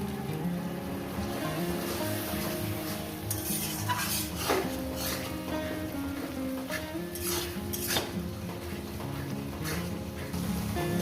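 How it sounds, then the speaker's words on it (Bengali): Chicken masala with turmeric powder is stirred and sautéed in a pan, the masala catching a little on the bottom: a continuous close sizzle with repeated scraping spoon strokes under a steady tonal background. "হলুদের গুঁড়ো গুঁড়ো দিয়ে দিলাম এবার এটা কষবো"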